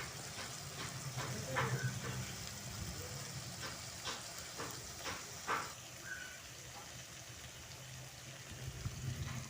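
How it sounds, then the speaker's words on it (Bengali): Small puti fish fry with salt and turmeric in a pan for a potato and eggplant curry, giving a soft, faint sizzle with a few sharper crackles and stirring scrapes spread across the stretch. "লবণ আর হলুদ দিয়ে আর একটু ভেজে নেব।"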